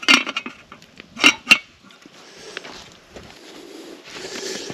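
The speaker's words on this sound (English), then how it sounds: "Put the lid back on." Metal lid set back onto a cooking pot over a campfire in a snowstorm, a few bright clanks and clinks up close, followed by softer rustling and crackle.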